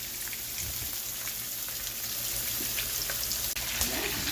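Chicken strips frying in a full pan of hot grease, a steady close crackle and sizzle with scattered pops throughout.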